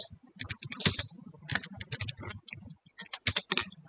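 Keys clatter on a computer keyboard as dates are typed in, bursts of quick clicks in an uneven rhythm, close and moderately loud with no talking.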